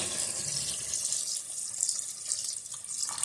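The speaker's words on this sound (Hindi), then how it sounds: "अब इसमें पानी ऐड करेंगे।" Water pours steadily from a tap into a pot of basmati rice being readied for Sindhi aloo methi pulao, a continuous bright rushing splash close by with no talk.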